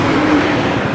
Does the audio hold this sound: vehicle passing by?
yes